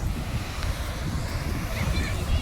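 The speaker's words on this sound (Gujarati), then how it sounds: "જુઓ મિત્રો, અહીંયા મોજા કેવા ઉછળી રહ્યા છે" Sea waves roll and wash onto Diu's Nagoa beach in a continuous broad rush, heavily buffeted by wind noise on the microphone.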